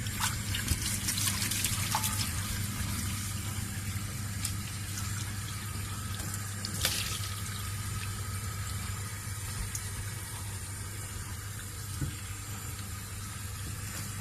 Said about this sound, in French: On rince, on voit déjà que ça brille.